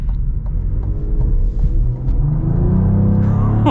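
A sports sedan, a 2023 Cadillac CT4-V Blackwing or Audi RS3, accelerates with a deep rumbling engine note that rises steadily in pitch as revs build, heard close from inside the car.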